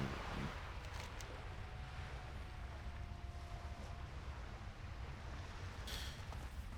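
Steady rushing of water and wind around a moving boat in World of Warcraft Classic: Burning Crusade, a constant low wash with faint creaks, no voices.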